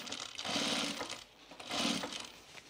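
A sewing machine stitches binding onto a split tool belt in two close, steady whirring runs of about a second each, separated by a short pause, with no talking.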